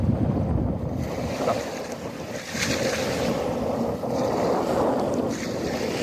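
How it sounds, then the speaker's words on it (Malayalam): Small, gentle sea waves wash near the shore in Lakshadweep, a steady close surf with continuous wind buffeting the microphone and no talk. "ഇവിടെ ചെറിയ തിരകളുണ്ട്, പക്ഷെ അപകടകരമായ തിരകളല്ല."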